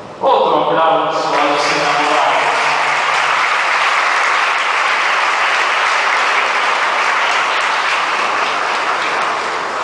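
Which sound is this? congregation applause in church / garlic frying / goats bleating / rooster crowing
congregation applause in church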